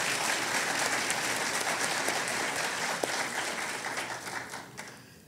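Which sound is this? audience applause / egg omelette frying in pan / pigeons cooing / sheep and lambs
audience applause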